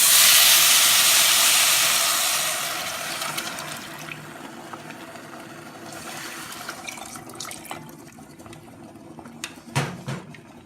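Water pours into a cooking pot for a chicken yassa, a loud rushing splash at first that settles into a softer trickle and gurgle, with a few light clinks near the end and no one talking.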